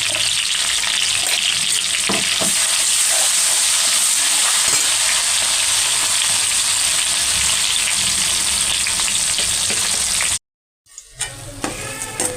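Tamarind pulp frying in a pan for a bitter gourd pickle, giving a loud, dense, steady sizzle with occasional stirring scrapes, cutting to a brief silence near the end before the frying resumes more softly.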